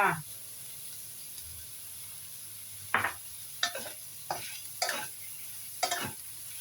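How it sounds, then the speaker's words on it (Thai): Ingredients are stir-fried in a pan for a Chinese dish, with a faint background sizzle and about six quick spatula scrapes in an uneven rhythm, close and fairly quiet. "ผัดให้หอมก่อนนะคะ"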